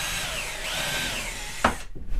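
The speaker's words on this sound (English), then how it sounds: "hold it up there, and then drill for the other one." A power drill whines steadily into a board while a hole is drilled for shed lighting, the motor pitch shifting slightly before it cuts off with a clunk and some handling noise.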